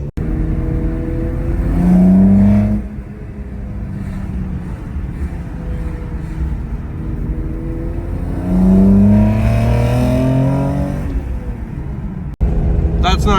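Turbocharged BMW E36 with an 8HP70 automatic accelerating hard on the Autobahn, engine note rising through two long revving pulls to around 4,000 RPM under steady road and wind roar, loud and close from inside the cabin.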